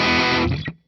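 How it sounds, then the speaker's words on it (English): A distorted electric guitar chord rings from the middle pickup of a 2008 Gibson Les Paul Custom, loud and close, then is cut off and decays quickly into silence. "So your middle pickup, I don't know if I necessarily like it with distortion."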